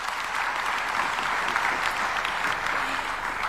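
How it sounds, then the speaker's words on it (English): Audience applause at the Second Africa Urban Forum at KICC in Nairobi: a dense, steady wash of clapping from a large crowd that holds evenly for several seconds. "A big round of applause to His Excellency."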